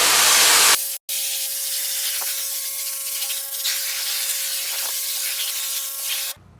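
Pressure washer spraying CLR through a 25 degree nozzle onto lime hardened like concrete in a dump truck, a steady loud hissing spray running for several seconds with a brief break near the start.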